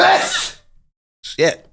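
A single loud, breathy sneeze bursts out close to the microphone. A short pause of near silence follows, then a person speaks a brief exclamation.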